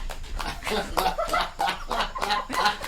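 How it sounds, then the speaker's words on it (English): Several chickens cluck and squawk close by in a busy, irregular chorus of short calls overlapping one another, with no talking among them. "Yeah, that's the chickens."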